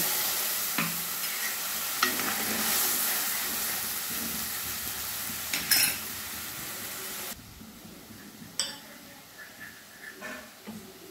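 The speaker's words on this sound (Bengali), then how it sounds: "আমি একটু নেড়ে নিচ্ছি।" A mustard, poppy seed, green chilli and cumin paste with turmeric frying in a pan, stirred with scraping strokes over a sizzling hiss that drops quieter partway through, recorded close up.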